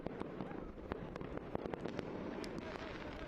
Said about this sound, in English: And the fireworks continuing to go off.